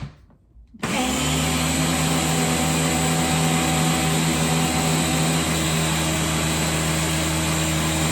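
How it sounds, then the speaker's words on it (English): A small electric mixer blending Dijon dressing ingredients, with salt and pepper, starts abruptly after a brief quiet and runs as a loud, steady whirring motor hum to the end. "Put it all in our little mixer here."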